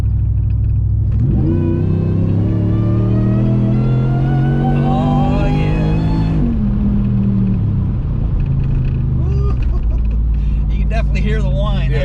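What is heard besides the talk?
Whipple supercharged Ram Hemi truck accelerating, supercharger whine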